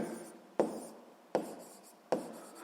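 Writing on paper during a physics exercise, heard as three short, evenly spaced scratchy pen strokes, close and fairly quiet, with no voice.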